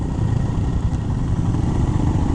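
A Royal Enfield Himalayan Scram 411 motorcycle with a five-speed gearbox rides down a road, its single-cylinder engine thrumming steadily and loud at close range, with constant low rumble and no talk.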